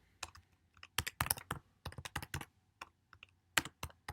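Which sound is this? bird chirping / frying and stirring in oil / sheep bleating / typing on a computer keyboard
typing on a computer keyboard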